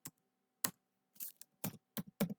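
Keys on a computer keyboard are struck in short, separate clusters, about six crisp taps and small bursts with quiet gaps between, close and clear in a silent room.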